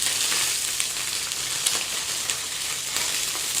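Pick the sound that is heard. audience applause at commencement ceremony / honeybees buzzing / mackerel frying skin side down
mackerel frying skin side down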